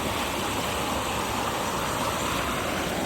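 Water rushing in a creek swollen after rising waters, a steady close broadband roar and wash that continues unbroken with no voices.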